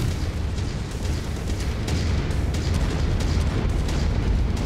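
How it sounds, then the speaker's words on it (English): Orbital cannon blasts in the mech combat game Mechwarrior 5: Mercenaries roll out as a dense stream of heavy, booming explosions with a constant deep rumble and sharp cracks layered over it. "I don't like the screen shake from these orbital cannons"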